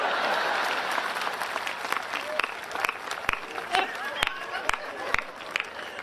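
Audience applause at a Hindi comedy poetry show, a loud crowd clapping burst that fades into scattered claps while the performer keeps talking over it.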